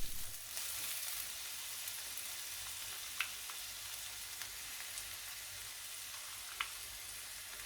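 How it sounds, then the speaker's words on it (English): Onion and crushed garlic frying in butter and oil, a quiet, steady sizzle with a few faint pops and crackles. "Then fry the onion and a couple of crushed garlic cloves."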